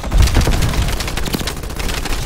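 Rapid, dense multiplayer gunfire in Call of Duty Black Ops Cold War, a close and loud continuous volley of shots and booms lasting a couple of seconds, with no voices.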